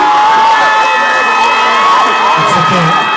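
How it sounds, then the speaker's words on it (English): Audience cheering and clapping for a very young student singer, a loud close crowd roar with whoops and shouts, voices mixed in throughout. "Please clap for her."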